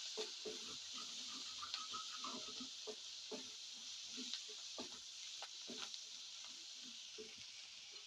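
Onions sizzle and crackle steadily in a pan while a Telugu-style curry with drumstick pieces and tomatoes is being cooked, a constant hiss with scattered pops and no talking.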